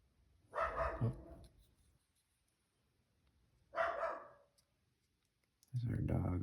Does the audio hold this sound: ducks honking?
no